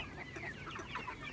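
Brahma chickens, including a Brahma cuckoo rooster, cluck faintly in a flock at a poultry farm, a soft scattered chatter of short calls with no talk.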